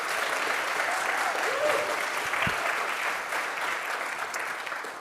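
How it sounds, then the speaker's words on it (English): Audience applause fills a summit hall after a live music performance, a steady, dense wash of clapping that holds for several seconds and slowly tapers toward the end. "can we also give another round of applause to Deontay Baker and William Oates"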